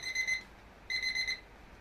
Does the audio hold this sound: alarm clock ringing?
yes